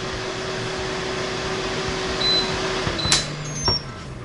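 NuWave Brio 14-quart air fryer oven running near the end of a 30-minute cook at 350 degrees Fahrenheit, a steady fan whir and hum, followed by a couple of sharp beeps and a clunk.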